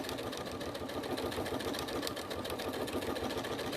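Crazy patchwork is stitched over pleather on a sewing machine that runs at a steady fast clatter, close and continuous with rapid even needle beats throughout.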